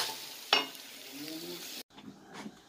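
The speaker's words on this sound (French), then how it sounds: "Et les frites sont en train de cuire" French fries frying in a home kitchen, a steady soft sizzle with a sharp clink of utensil near the start, then a brief dropout before the sizzling resumes faintly.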